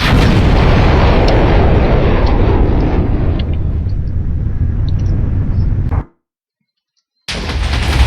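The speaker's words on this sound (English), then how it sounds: "but instead will launch fragments of exploding materials." Missile in the Voltz game launching and scattering exploding fragments, a loud continuous rumbling blast that fades gradually over several seconds, then cuts to brief silence before the roar resumes.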